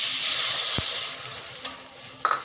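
Water poured into a hot wok to start a sugar syrup, right after dried kuih has been deep-fried, gives a steady close sizzling hiss with a couple of sharp metallic clinks and splashes, and no talking.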